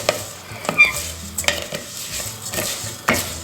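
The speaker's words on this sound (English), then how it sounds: "I'm going to keep stirring." Basmati rice stirred in hot oil in a pan over very high heat for pilau, with a steady sizzle and repeated scraping strokes of a utensil against the pan, close and clear with no talking.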